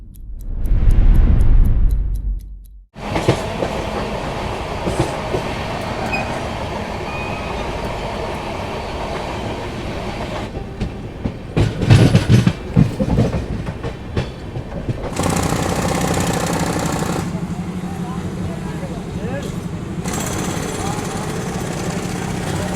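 The Avadh Assam Express rolls into Shahjahanpur Junction with loud rumbling, rhythmic clattering wheels and brief squeals, a sharp burst of noise at the start and a steady roar continuing, with people talking nearby.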